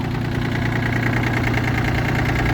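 A Yanmar RS-240 tractor with a front loader sits idling, its engine giving a steady, loud, low thrumming drone with an even mechanical rhythm that never changes, close up and with no voices.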